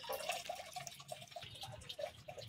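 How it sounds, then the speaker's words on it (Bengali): Finished chela fish curry pours quietly from a pan, a soft wet trickle with faint drips and clinks, close and low in level. "মাছের ঝাল হয়ে গেছে, এবার ঢেলে নেব।"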